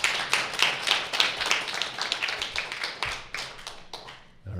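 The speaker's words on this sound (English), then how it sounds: "Give her a round of applause as she comes up." A small group claps steadily for several seconds, the applause thinning and fading out near the end.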